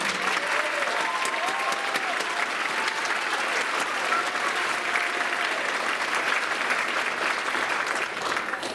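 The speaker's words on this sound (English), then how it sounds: "If he could stand so we can give him a round of applause, Asriel Washington." A school spring band concert audience gives a round of applause, dense steady clapping from a crowd that carries evenly from start to finish.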